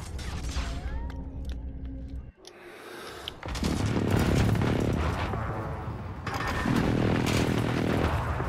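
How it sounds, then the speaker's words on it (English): An enemy precision airstrike in the Call of Duty Modern Warfare video game: a sudden drop to near silence, then heavy rumbling blasts that swell and roll on loudly, with a second surge of booming near the end. "Enemy precision airstrike."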